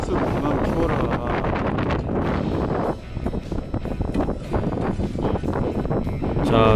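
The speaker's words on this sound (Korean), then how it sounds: "이게 게다가 맞바람입니다" A strong headwind blows at a freshwater fishing spot, buffeting the microphone with loud, continuous roaring gusts.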